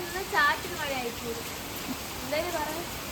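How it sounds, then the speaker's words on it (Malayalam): Heavy monsoon rain pours outdoors, a constant broadband wash, while a person talks over it in short bursts. "ഇപ്പം നല്ല പെരുമഴയാണ് ഇവിടെ പെയ്യുന്നത്."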